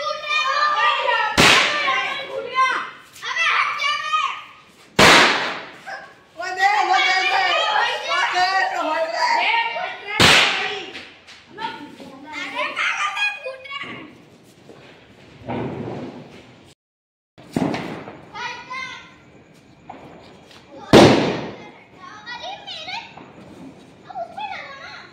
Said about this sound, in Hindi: अरे तुम हाथ पे जला रहे हो ना ये पटाखे